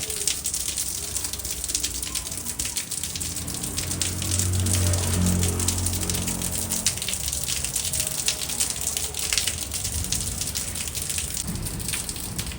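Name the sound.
heavy rain falling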